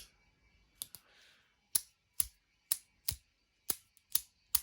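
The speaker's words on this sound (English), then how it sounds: "I kind of wish it had more of a clicky click to it." A retractable pen clicked repeatedly, about eight sharp, close clicks in a loose rhythm, with a faint rustle between the first few.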